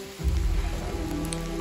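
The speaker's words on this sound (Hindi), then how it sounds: "और बहुत तेज़ बारिश हो रही है" Heavy rain pours steadily onto a surface, a dense continuous hiss close by.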